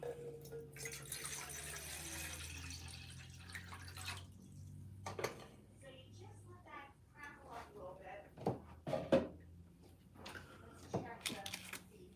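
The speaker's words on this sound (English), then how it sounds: "I need to start 4 cups of water in here." Tap water runs into a cooking pot in a home kitchen, a steady rushing hiss for the first few seconds, then fades into clinks and light kitchen knocks while a person talks nearby.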